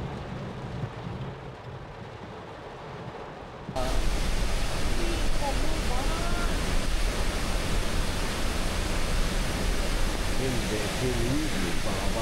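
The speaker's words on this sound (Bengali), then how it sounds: "প্রদীপটা বলছে কাল রাত্রির থেকে ভয়াবহ যে বৃষ্টি হচ্ছে তার ফলস্বরূপ এই ঝর্ণাগুলো হয়েছে।" Waterfall in Meghalaya swollen by heavy overnight rain: a steady, dense rushing roar that jumps louder after a few seconds and then holds constant to the end.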